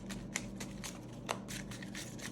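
Tarot cards handled and drawn from a deck: soft papery shuffles and light slaps, with a couple of brief crisp flicks, quiet and close against a steady low background hum.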